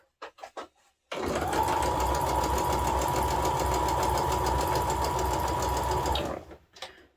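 A sewing machine stitches fabric in one continuous run of about five seconds, loud and steady with a sustained whine over a rapid mechanical chatter, with brief soft handling noises before and after.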